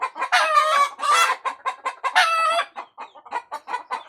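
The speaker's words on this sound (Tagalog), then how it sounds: "Yung mga manok ko ang ingay." Backyard chickens cluck in quick repeated bursts while a rooster crows loudly and nearby, on a Saturday afternoon at dusk; the calls come in a busy, irregular rhythm with short gaps between them.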